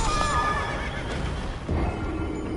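A horse in the video game Elden Ring whinnies loudly near the start, its neigh trailing off, followed by steady clip-clop hoofbeats and game ambience over the rest.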